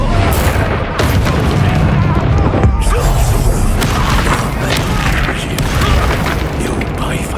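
Bombarda blasting spell going off in the Hogwarts Legacy video game, a dense booming explosion with crashing debris and mechanical clatter that fills the whole stretch, game voices and combat noise mixed underneath.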